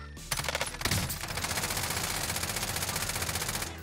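Rapid automatic gunfire in the video game Call of Duty Warzone, a dense, loud, steady burst of shots running almost without pause across the whole stretch, with a sharper single report near the start.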